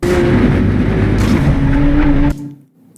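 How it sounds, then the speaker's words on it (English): A BMW M3 race car engine drones loud and close on a track with a steady, raspy exhaust note, then cuts off abruptly near the end, leaving near silence. "if we play this back with the exhaust note, you'll be able to hear"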